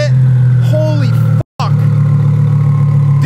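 Car with an active exhaust holding a loud, steady low drone that cuts out briefly and then returns, with short voice sounds over the engine.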